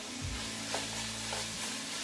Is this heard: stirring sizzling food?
yes